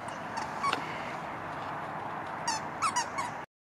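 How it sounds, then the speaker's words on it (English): A squeaky plush emu dog toy gives a few sharp, high squeaks in quick bursts outdoors in the rain, over a soft hiss of rainfall before the sound cuts out abruptly. "Squeaks when squeezed, machine washable."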